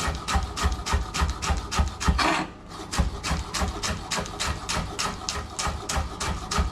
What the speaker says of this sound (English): Just gonna very finely slice the spring onion.